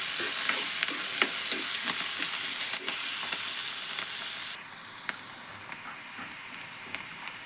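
Eggs fry in hot oil in a pan for an egg curry, a steady close crackling sizzle with scattered sharp pops, easing slightly quieter partway through.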